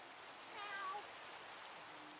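A single soft Minecraft cat meow rises briefly over a steady hiss of in-game ambience, faint and short with no voices.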